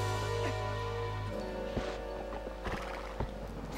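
The horse Epona whinnies and gallops in The Legend of Zelda: Twilight Princess, with a neigh over game music followed by rhythmic clip-clop hoofbeats.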